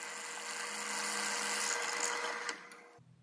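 A 3/8 inch hole being drilled through both sides of steel tubing for a belt grinder, a steady high whining drill that runs continuously for over two seconds, then cuts out abruptly to near silence.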